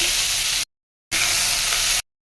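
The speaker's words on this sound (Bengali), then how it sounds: "বেগুনটাকে ভেজে নিচ্ছি" Sliced eggplant fries in hot oil, giving a loud, close, bright sizzle in two sustained bursts separated by abrupt silences.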